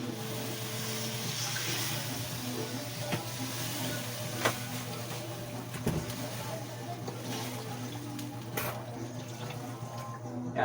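Water pours steadily into a cooking pot for chicken tinola, a continuous rushing splash that runs throughout at moderate loudness, with a few faint clinks and no clear talk.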